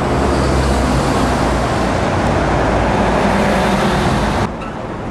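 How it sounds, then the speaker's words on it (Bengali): Loud, steady roar of a luxury bus rumbling past on a road close by in Ireland, cutting off abruptly near the end. "একটা বিলাসবহুল বাস আসছে।"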